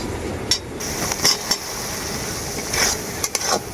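Chopped tomatoes stir-fried with spice paste in a pan: a soft steady sizzle with a spatula scraping and clinking against the metal at irregular intervals, close and without talk.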